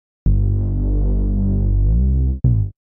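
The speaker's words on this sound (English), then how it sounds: "Let's just add like a Reese bass, which always works well." A deep, throbbing Reese bass synth drones loud and close for about two seconds, then a short second note cuts in.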